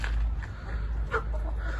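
Hens cluck softly in short, scattered bursts close by, with a low rumble of background noise underneath.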